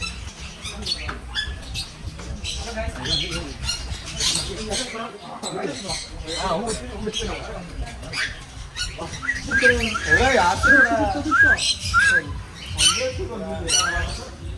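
Loud, harsh parrot squawks repeat in bursts, close by, mixed with chattering calls and some voices.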